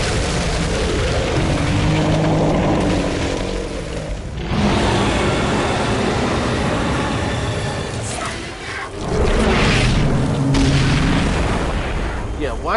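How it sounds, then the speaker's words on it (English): A boss's cannon in the game Darksiders 2 fires heavy booming blasts, one around four seconds in and another near nine, loud and rumbling amid ongoing combat sounds and some talk. "Watch out for the cannon."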